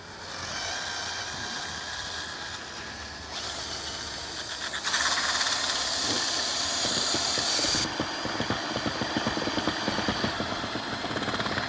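An auger being used to mix and activate biochar, heard as a steady motor drone with rough churning and grinding that intensifies in a harsher, brighter stretch midway before settling back to a constant whir.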